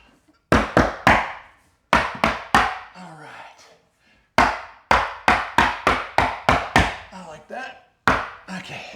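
Sharp hammer strikes land in quick bursts of three to six blows, separated by short pauses, loud and close with a bit of ringing.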